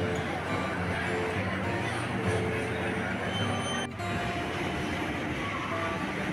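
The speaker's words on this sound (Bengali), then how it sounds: "এসে গেছে আমার মেট্রো।" A Kolkata underwater metro train on the Howrah Maidan to Central line pulls into a platform beneath the Ganga, a loud, continuous rumbling roar with rail clatter that briefly dips near the end, with faint voices under the noise.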